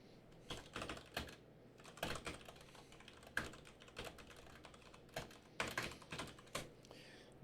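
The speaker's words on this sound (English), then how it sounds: "Are you guys hearing my keyboard if I type?" Keys clatter on a computer keyboard in irregular clusters of clicks and taps, close and fairly loud, with brief pauses between bursts and a faint steady background hum.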